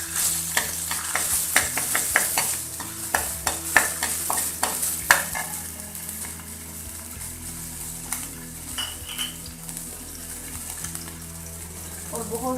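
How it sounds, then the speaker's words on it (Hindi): Garlic-ginger paste sizzles and crackles steadily in oil while a spoon scrapes and stirs in a pan, with clinking stirs early on and a quieter sizzle later. "इसमें मैं लहसुन अदरक का पेस्ट डालूँगी।"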